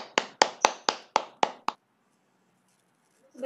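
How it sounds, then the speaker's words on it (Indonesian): A classroom audience applauding a student group's presentation: about seven sharp, evenly spaced claps in a quick rhythm, close and fairly loud, then quiet, with a faint sound at the very end. "Kita beri tepuk tangan terlebih dahulu berkaitan dengan hasil penyampaiannya."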